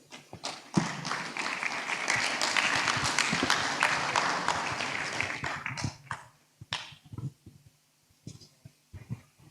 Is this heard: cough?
no